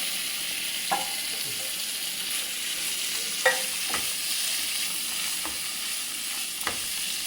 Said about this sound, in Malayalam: ഞാൻ ഇതിൽ പനീർ ഇടുന്നു കേട്ടോ പനീറിലിട്ട് വഴറ്റുക